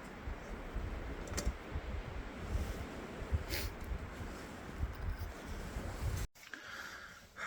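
Wind blowing across a snowy island campsite, a steady low rumbling gust that holds for several seconds before a brief drop, with faint clicking on top.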